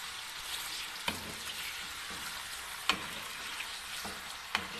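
Chicken jalfrezi fries on high heat in a pan, giving a constant close sizzle broken by three or four sharp spoon scrapes and clinks, with no talking.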